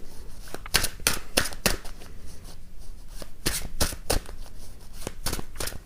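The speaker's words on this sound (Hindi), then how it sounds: "मैं एक और कार्ड लेना चाहूंगी" Tarot cards are shuffled in quick riffling bursts, with crisp flicks and slaps repeating in uneven clusters, close and clear with no talking.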